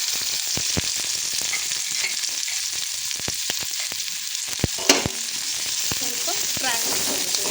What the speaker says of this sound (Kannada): ಸ್ವಲ್ಪ ಫ್ರೈ ಮಾಡ್ಕೊಳ್ಬೇಕು ಎಣ್ಣೆಯಲ್ಲಿ.